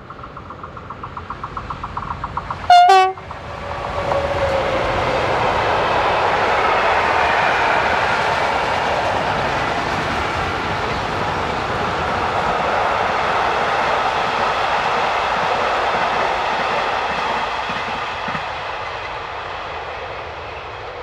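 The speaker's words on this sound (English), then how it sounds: "26229 heads a freight from Wapi to probably either Sibelin in Lyon or the Miramar yard area around Marseille" A freight train headed by locomotive 26229, running from Wapi toward Lyon or Marseille, passes close by after a short horn blast. A long, steady rumble of wagons and engine follows, slowly fading, with no voices.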